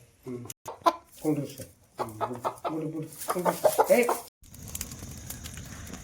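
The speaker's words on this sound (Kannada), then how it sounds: "ಗೈಸ್ ನೋಡಿ ಗೈಸ್ ಇದೆ ಕೋಳಿ" A hen sitting on twelve eggs clucks in short bursts, close by, followed by a softer rustling background near the end.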